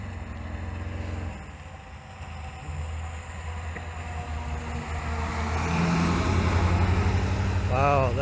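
A rusty truck passes close by, its engine a loud, steady rumble that swells toward the end, with a brief rising whine near the finish.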